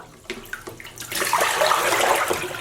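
Tap water runs and splashes steadily while red-cabbage-dyed yarn is rinsed, starting with a few drips and light handling noises, then a fuller rushing flow, close and alone.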